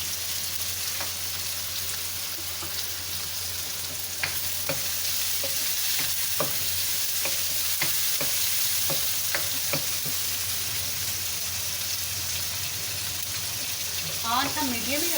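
Tomatoes and green chillies fry in a pan with a little coriander, a steady hiss and sizzle running throughout while a spoon scrapes and clicks against the pan at irregular intervals, and a short burst of voice near the end.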